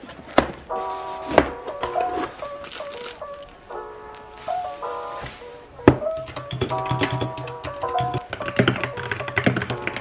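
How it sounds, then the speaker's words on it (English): Typing on a computer keyboard, heard as irregular bursts of close key clicks and taps alongside tonal, musical-sounding elements, moderately loud. "This guy is actually a keyboard"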